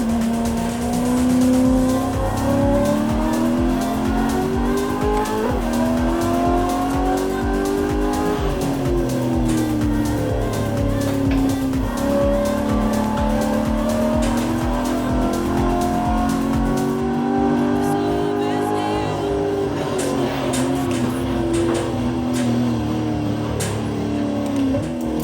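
A Koenigsegg CCX supercar accelerates hard along the Dunsfold runway, its engine note climbing, dropping at each gear change and climbing again, loud and close, with tyre squeal mixed in.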